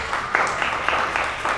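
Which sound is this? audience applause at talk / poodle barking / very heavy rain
audience applause at talk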